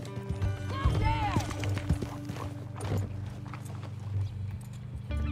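Horse hooves clip-clopping at a run in Red Dead Redemption 2, rhythmic thuds under game music and a whinny, with no voice over the hoofbeats.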